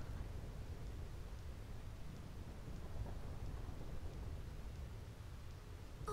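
Thunder rumbling over steady rain on the Thunder Plains in Final Fantasy X, a low continuous storm wash that stays faint and even, with no voices.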